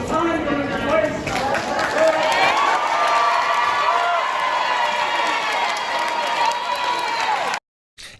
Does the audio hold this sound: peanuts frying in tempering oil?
no